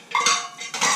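Metal camping plates, cups and a saucer clattering: bright metallic clinks and rattles close by, in two quick bursts of jostling with no talk.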